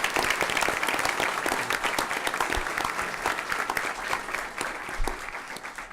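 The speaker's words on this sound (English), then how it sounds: "Huge round of applause for those students" Steady, dense applause from an audience at a school board meeting honoring elementary-school all-star readers, sustained at an even level for the whole stretch with no talking.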